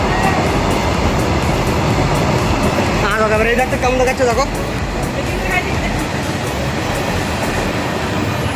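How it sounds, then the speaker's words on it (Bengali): A train pulls into Chhatna railway station, its heavy steady rumble and rail noise filling the scene, with a brief squealing passage midway as people talk nearby. "হ্যাঁ দেখো তাহলে ট্রেন আসছে এখন"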